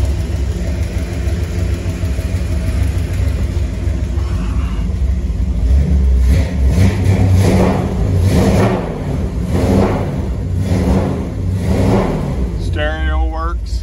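A 1934 Ford street rod's big engine rumbles steadily with a deep growl through a 3.5-inch exhaust with headers, revving up in repeated surges, loud and close.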